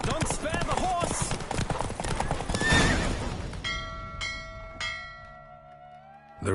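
A horse neighs and its hooves clatter at a gallop near the end of a race in The Witcher game, under talk; the hoofbeats fade out and give way to ringing, bell-like tones.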